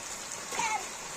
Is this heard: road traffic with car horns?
no